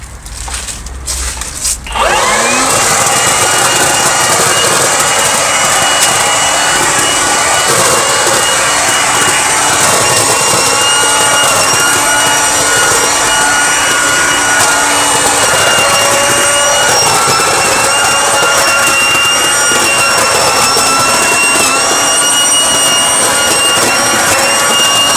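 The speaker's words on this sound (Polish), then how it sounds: "Dobra, mamy tutaj trochę liści. Spróbujemy sobie to odkurzyć." A Kaltmann Titanium 40V cordless leaf vacuum blower spins up after a brief click and then runs with a loud, steady high-pitched whine and airy roar for over twenty seconds while sucking up leaves, close by.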